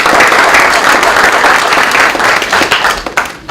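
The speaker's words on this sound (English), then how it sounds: "so let's give him a round of applause." Loud, dense round of applause from a signing day audience for a school coach, sustained clapping that holds steady, then tapers slightly near the end.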